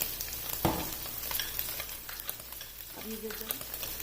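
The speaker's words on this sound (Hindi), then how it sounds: "मटन बोटी को मैंने ऑयल में तकरीबन 5 से 6 मिनट तक फ्राई कर लिया।" Mutton boti pieces frying in oil, giving a steady close sizzle with scattered crackles and a few stirring scrapes, no talking.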